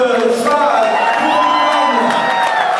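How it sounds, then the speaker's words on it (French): An audience at a school-sponsored contest event applauds and cheers for a winning girl, with loud sustained clapping, whoops and shouts filling the room. "Applaudissements pour Heidi"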